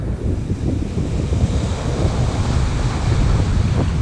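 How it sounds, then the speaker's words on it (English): Steady roar of ocean surf on a Maui beach with strong wind buffeting the microphone, continuous and loud throughout, no voices. "Waves on that end are definitely a lot stronger than up here."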